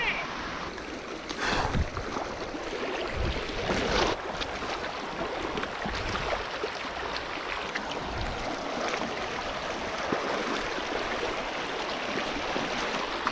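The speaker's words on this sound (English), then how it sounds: "We could almost just walk through the stupid creek at this point." Footsteps slosh and splash while wading a shallow creek in Wyoming's Wind River Range, close by, over the continuous burble of a flowing stream.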